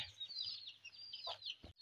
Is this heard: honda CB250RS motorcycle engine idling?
no